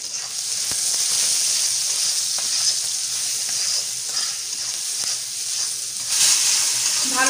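Chopped onion and green chilies frying in oil in a wok, a dense steady sizzle and hiss up close, with a few faint stirring knocks and a brief louder burst near the end.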